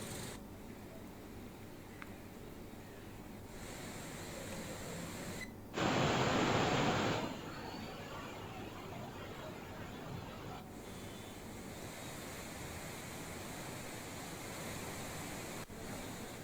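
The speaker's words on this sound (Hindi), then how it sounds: "रुद्रप्रयाग शहर के बीच बहने वाला पुनाड़ गदेरी भी बारिश के चलते उफान पर है" Rain-swollen Punad stream in flood running through Rudraprayag town, Uttarakhand, a steady broadband rushing roar heard from some distance, with a brief louder surge partway through and no voices.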